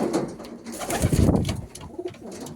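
Moulted male pigeons coo in a loft, several soft throaty calls overlapping near the listener, rising in a burst midway, with no voices.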